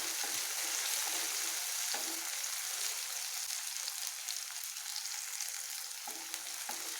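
Ginger-garlic paste fries with onions in a pan, giving a steady, close sizzle broken by occasional scraping stirs, with no voices.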